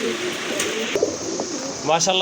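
Rajgolla pigeons cooing at a pigeon stall, soft low coos and a few brief calls close by, with a person talking over them.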